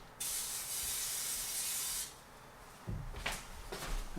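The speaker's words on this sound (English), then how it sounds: "I'm going to spray some oil on it over here in the sink" Cooking oil sprayed from a can onto a grill pan over a kitchen sink, one steady hissing burst lasting about two seconds, close and fairly loud, followed by light clatter and handling noises.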